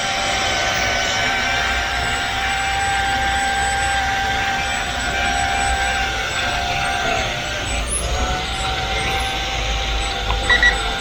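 A Flying Speedy F42 toy drone plane flies overhead, its small electric motor giving a continuous high whine that holds steady throughout, loud and close, with faint wind in the background.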